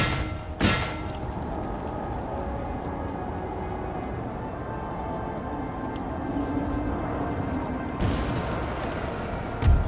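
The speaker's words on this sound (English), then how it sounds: "Those cannons." Cannon artillery booms in a Napoleon: Total War battle, two sharp blasts, one near the start and one near the end, over a steady rumbling battlefield din.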